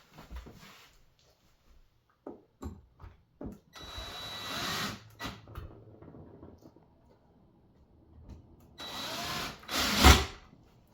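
A power drill drives the smaller screws into a black closet door handle, with a few short taps and clicks followed by two whirring bursts, the second louder and nearer.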